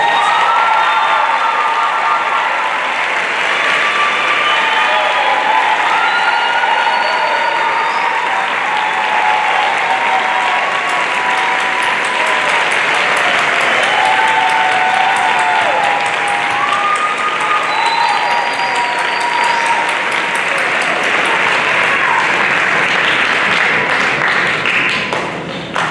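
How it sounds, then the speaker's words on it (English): A large audience at a school holiday concert in Port Arthur, Texas, applauds steadily to welcome Maestro Glenn Alexander to the stage, loud sustained clapping with scattered whoops and cheers lasting throughout. "would you please put your hands together and with a rounding sound of applause, join me as we invite Maestro Glenn Alexander to the stage."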